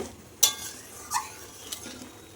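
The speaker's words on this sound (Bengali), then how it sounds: "আমি এভাবে নেড়ে চেড়ে একটু জিরে ভেজে নেব" Cumin seeds frying in a pan while a spoon stirs them, a soft sizzle broken by a few sharp metal scrapes and clinks against the pan over a couple of seconds.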